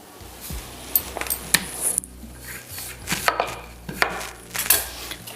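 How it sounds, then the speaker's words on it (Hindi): Knife slicing rolled khurma dough on a board: a series of close, crisp chops and knocks against the wood, irregular in rhythm and moderately loud, with no voices. "अब इसकी अच्छी सी कटिंग कर लेंगे।"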